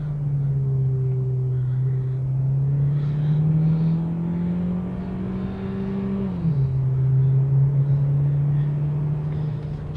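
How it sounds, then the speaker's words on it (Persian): An MG GS in sport mode accelerates with a steady, loud engine drone from inside the cabin. The pitch climbs slowly, dips sharply at a gear change near the end, then holds steady again. "شتاب گیریش واقعا لذت بخش انجام میشه"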